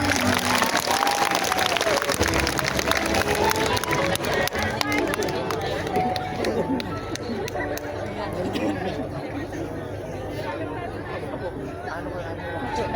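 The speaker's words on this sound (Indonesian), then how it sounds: "Tepuk tangan untuk Dafa." A large outdoor crowd at an Islamic sermon gathering on a field in Madiun applauds steadily for a boy named Dafa, dense and sustained under loud chatter and crowd noise.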